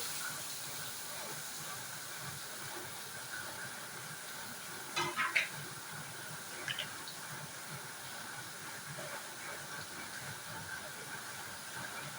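Papaya and salt tipped into a hot pan with dried red chillies for papaya thoran, a steady soft sizzle and hiss with a few brief clinks of stirring in the middle.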